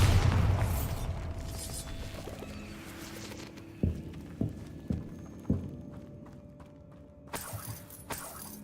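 Bombarda spell explosions in the game Hogwarts Legacy: a heavy blast at the start, then a series of sharp, punchy impacts with debris clatter, ending with a bright magical swell.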